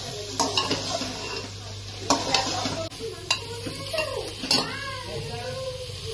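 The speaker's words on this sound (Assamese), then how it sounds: "आलू দি ফলা 3-4 মিনিট সময় ভাজিম" Potatoes and mutton frying in oil in a pan, with a steady sizzle under repeated sharp scrapes and clacks of stirring against the metal.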